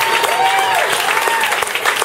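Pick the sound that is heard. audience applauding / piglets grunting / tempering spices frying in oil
audience applauding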